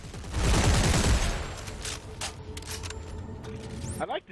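An acid-round gun in Dead Space 3 fires in a loud, rumbling burst, followed by mechanical clanks and ratcheting clicks, with a voice talking over it.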